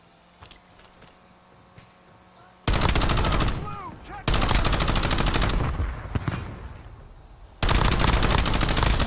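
Bursts of automatic gunfire from a battle royale video game ring out loud and dense in several long volleys, separated by a quieter stretch with faint game sounds.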